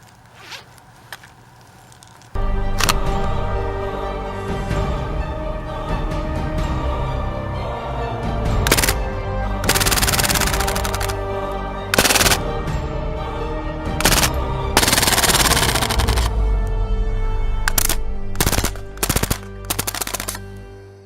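Uzi-style BB submachine gun fired in repeated rapid bursts, loud and close, with sharp clusters of shots separated by brief pauses over a steady background.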